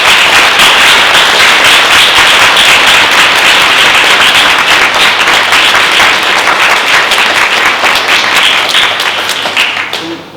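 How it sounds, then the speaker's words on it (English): Loud, dense applause from a school audience at a Year 5 and Year 6 award ceremony, sustained for about ten seconds at a steady level before easing off at the end. "And can we give Miss Celia a really good clap?"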